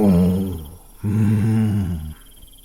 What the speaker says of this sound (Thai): พร้อมกับเสียงคำรามของเจ้าป่า